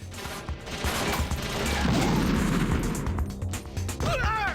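Loud bursts of gunfire in Metal Gear Solid: The Twin Snakes strike the player, crackling shots and impacts rolling together in a dense volley before tapering into scattered sharp pops.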